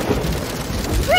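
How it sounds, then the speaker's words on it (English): A rain sound effect played on a toy keyboard: a short burst of dense, hissing rain with a low rumble like thunder, loud and close, ending as a high tone begins. "Mr. Frog, why would you want to make rain sounds on your keyboard"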